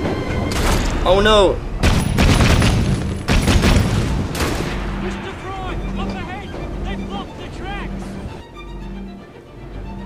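Gunfire and explosions during an ambush in the PC game Assassin's Creed Syndicate: heavy booming blasts and volleys fill the first few seconds, then ease into a softer rumble, with someone talking over them.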